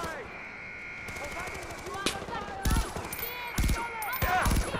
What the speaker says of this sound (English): Shooting!